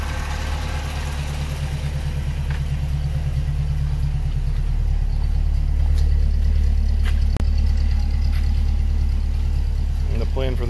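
An old project car's engine idles steadily at close range, a continuous low rumble with a smooth, even rhythm that holds for the whole stretch, with no talk over it.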